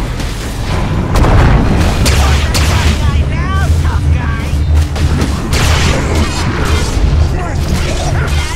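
A tower crumbling in the Dota 2 video game, heavy booming crashes and rumbling debris layered over busy battle effects and an announcer voice, loud and continuous throughout.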